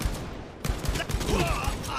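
Gunfire in the shooter game Blood and Truth, a quick string of sharp shots in a rapid burst, loud and close, with a voice talking alongside.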